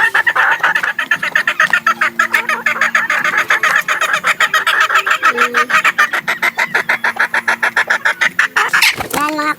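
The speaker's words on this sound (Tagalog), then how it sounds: "Yan, mga kumakakak na mga itlog na. Actually, nakatatlong itlog na sila." Hens cackle loudly and repeatedly after laying eggs, a rapid rhythmic series of clucks close by, with roosters present in the flock.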